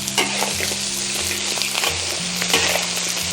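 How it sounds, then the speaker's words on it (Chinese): Lamb pieces and ginger sizzling loudly in a wok as they are stir-fried, a close, continuous crackle with repeated scraping strokes of the spatula and no talking. "稍微把这个水分给它稍微炒一炒"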